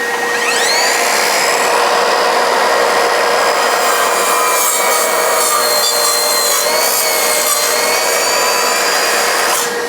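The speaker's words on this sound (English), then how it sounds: "the multi-purpose blade is designed to cut mild steel and wood with nails, so I'll demonstrate it now cutting through this" An Evolution R185SMS-Li 18V cordless sliding mitre saw with a multi-purpose blade cuts through wood containing nails, its loud motor whine and grinding cut running steadily for about ten seconds.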